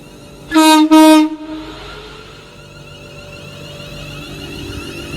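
A passing train on the West Coast Main Line at Lichfield Trent Valley blasts its horn twice, loud and close, two long tones with a brief gap, followed by the low rumble of the train rolling past.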